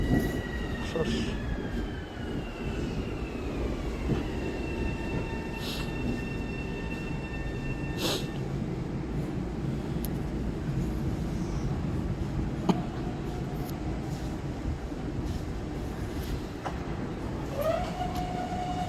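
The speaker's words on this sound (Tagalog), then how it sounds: "Train" A train passes at a station in Jamaica, Queens, during snowy weather, a steady rumble of rail cars with squeals and clanks rising over it, moderately distant and continuous.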